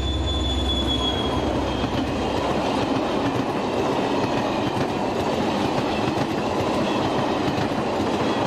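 A train hauled by a French CC 72000 diesel locomotive rumbles past close by, wheels clattering and squealing on the rails in a continuous loud roar that lasts throughout.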